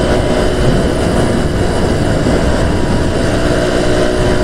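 A Revival 50cc scooter engine drones steadily and loudly on a long ride, a constant buzzing roar mixed with wind noise and no pauses.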